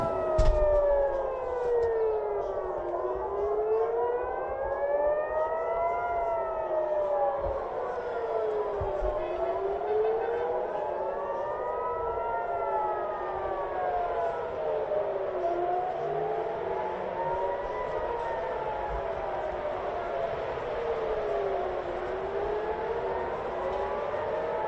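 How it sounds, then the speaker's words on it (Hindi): Air raid sirens wail across Tel Aviv during a missile attack, several overlapping rising and falling tones sounding at once from a distance and continuing steadily throughout. "पूरे तेल अवीव में सायरन बज रहे हैं"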